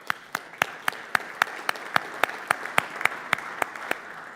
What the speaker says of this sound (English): So I think they're due a round of applause.